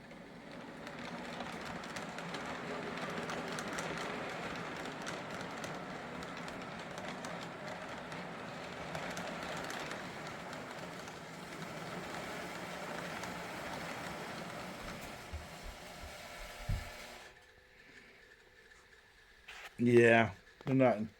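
A model train runs around the track pulling a fancy MTH caboose, with a steady rolling rumble and clatter for about seventeen seconds before it stops, followed by a couple of short louder bursts near the end.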